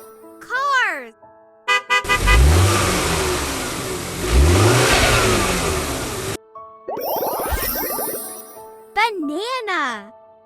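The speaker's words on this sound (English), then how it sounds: "Cars." A cartoon car's engine revs hard in two rising surges, loud and up close, then gives way to bright jingling, a short honk and sweeping cartoon effects, with a voice chiming in around it.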